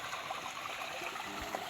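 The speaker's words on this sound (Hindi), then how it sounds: "ये कुदरती चश्मा है, शायद ऊपर से कहीं है," Natural spring water flows steadily downhill at a rocky hillside temple site, a continuous close trickling stream with no voices.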